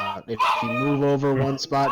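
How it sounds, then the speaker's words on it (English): A dog howls in the background, a drawn-out tonal wail running beneath and between a man's speech during a casual online game session, fairly loud and sustained for over a second. "Just a dog howling"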